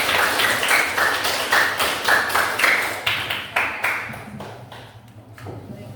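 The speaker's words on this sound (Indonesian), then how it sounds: "Tepuk tangan dulu untuk teman yang berikutnya" Applause from a classroom of students for a classmate, a dense wash of many hands clapping at close range that swells in repeated bursts and then thins out toward the end.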